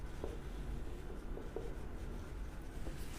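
Pen writing on paper while working an accounting problem, a faint steady scratch with occasional soft taps, heard alone over a constant background hiss.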